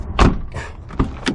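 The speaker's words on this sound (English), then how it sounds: "The door opens like brand new." A few short mechanical clunks and creaks of a car door being opened at a salvage yard, close and distinct with brief gaps between them.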